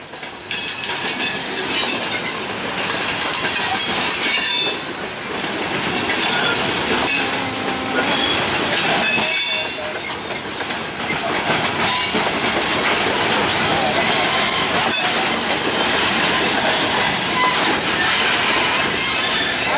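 A freight train rolls past as it leaves a rail yard, loud and close, with rhythmic clickety-clack of wheels over rail joints, metallic squeals and clanks, and a continuous rumble throughout.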